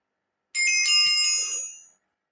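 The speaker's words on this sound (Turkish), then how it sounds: "Neden benim bildirim sesim Minecraft sesi?" A Minecraft sound set as a phone notification tone, a bright chiming burst of layered tones lasting about a second and a half and then fading out, heard clearly with no voices around it.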